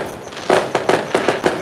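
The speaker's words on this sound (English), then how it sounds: "You can hear the fireworks in the background." Fireworks go off in the background at an outdoor Fourth of July celebration, a quick run of five or six muffled pops and bangs at an even pace, steady and moderately loud, with no talking.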